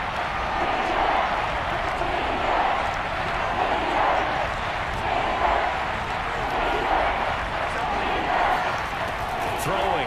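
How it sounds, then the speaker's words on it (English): A stadium crowd in the football game Madden NFL 22 roars in a steady, dense wash of cheering, with voices talking over it. "Crowd getting in it a bit already."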